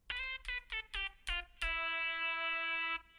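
X8 lead preset from the Void Serum Bank played in Serum: five short bright harmonic-rich synth notes in a quick uneven rhythm, then one long sustained note held for over a second, clean and loud with no talking.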